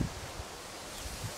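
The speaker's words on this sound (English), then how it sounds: "And the wind's blowing." Wind gusting against the microphone in a wildlife garden, with low buffeting rumbles and a soft rustling background, no voices.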